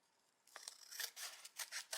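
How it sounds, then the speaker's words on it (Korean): Scissors snip diagonally through folded paper in a series of crisp, close cuts, several quick crunchy strokes following a brief quiet start, with no voices. "가위질을 해주세요."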